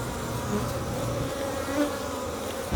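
Steady, dense buzzing of many honeybees swarming close around an agitated, defensive hive, a continuous drone with no talk.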